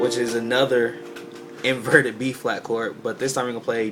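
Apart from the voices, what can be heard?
No everyday noises stand out.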